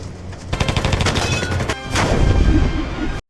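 Rapid bursts of aircraft gunfire in a World War II air combat film crackle loudly and continuously, dense and echoing, with no voices present.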